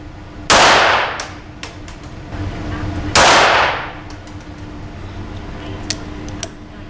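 Two loud, sharp pistol shots of SK Pistol Match ammunition are fired at a target outdoors, spaced a few seconds apart, each with a long decaying echo, with faint background noise between.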